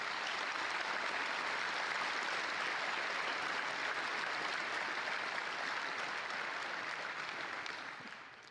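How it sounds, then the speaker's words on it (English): Sustained, dense applause from a large crowd, steady and even throughout, tapering off at the very end. "So please give the Japanese drag team a huge applause."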